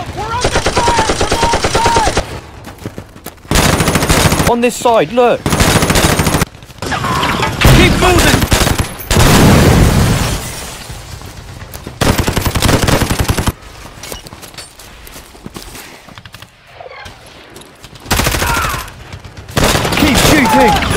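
Toy army men battle in a stop-motion scene with loud, close bursts of machine-gun fire and booms in rapid volleys, separated by short pauses, while voices shout commands between the bursts.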